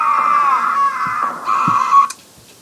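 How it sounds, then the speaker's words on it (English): Several people scream in the Happy Wheels video game, a loud sustained wailing chorus that holds for about two seconds, then cuts off abruptly into quiet with faint thuds. "Yeah, I hear a lot of people scream."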